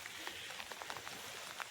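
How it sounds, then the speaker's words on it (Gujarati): Steady rain falls over a farm field with a flooded well and a collapsed boundary wall, a soft continuous hiss with scattered drop patters, fairly faint and uniform throughout, with no voices. "વરસાદ ચાલુ છે"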